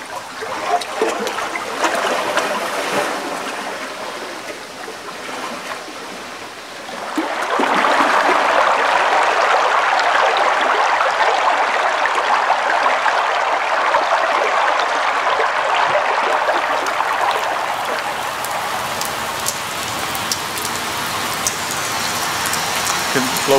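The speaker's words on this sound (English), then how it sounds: "I'm standing on the Adriatic shore, listening to the lapping water," Water laps steadily along the Adriatic shore as a continuous washing hiss, loud and close, swelling a few seconds in and then holding even for the rest.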